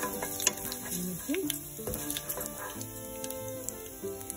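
Chilli flakes sizzle in hot oil for an Andhra-style cluster bean curry, a soft, close crackle with small pops and faint stirring clicks throughout.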